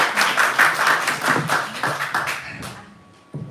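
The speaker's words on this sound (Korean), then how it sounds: "박수로 환영하겠습니다." Church congregation clapping in welcome during a Sunday worship service, a short burst of fairly close, rhythmic hand claps that tapers off after about three seconds.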